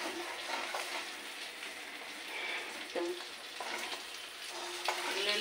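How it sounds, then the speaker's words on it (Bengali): Green chilies fry in hot oil with onions in a pan, giving a close, continuous sizzle broken by a few soft scrapes of stirring. "লঙ্কাটা ভালো ভাজা হচ্ছে আমি দেখছি"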